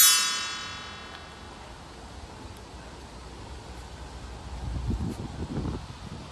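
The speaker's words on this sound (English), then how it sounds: "It's quite windy," Wind gusts blowing across an outdoor allotment plot, a steady low rushing with buffeting on the microphone that swells toward the end, with faint metallic clinks early on.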